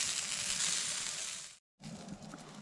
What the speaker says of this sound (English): Listen to that. Sizzle, sizzle, sizzle.